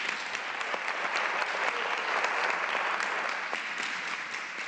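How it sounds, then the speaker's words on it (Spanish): Applause from the audience at a national oratory contest in Mexico, dense and sustained clapping from many people at an even level throughout. "Un fuerte aplauso para la maestra Edith Anabel Alvarado"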